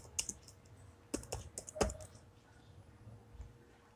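Nearby computer keyboard typing of a short virtual machine name while setting up Kali Linux in VMware: a few quick, crisp key clicks in two bursts, then quiet.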